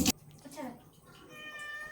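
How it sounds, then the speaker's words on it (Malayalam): A hungry cat meows at home with a single drawn-out, close-up cry after a brief knock, then soft room noise. "പൂച്ച വല്ലാതെ കരയുന്നുണ്ട്."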